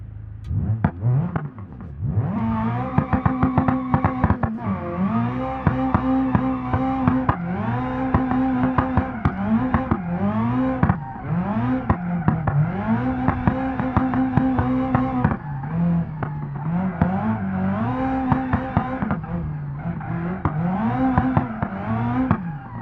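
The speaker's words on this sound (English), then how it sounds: "We'll accelerate after we get our engine going" A car engine in the BeamNG driving game revs and accelerates repeatedly, loud close engine tones climbing in pitch, dropping at each gear change and climbing again over about twenty seconds.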